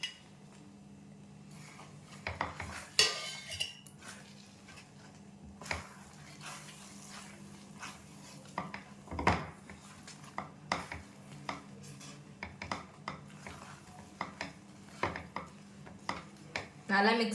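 Rava Kesari being stirred in a pan with roasted cashews and raisins folded in: scattered scraping and clinking of a spoon against the pan at an uneven pace, fairly close, over a low steady hum, with no talk.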